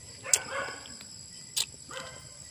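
Dogs bark in the distance at night, two brief separate barks with long gaps, faint against a quiet background of low hum and insect noise.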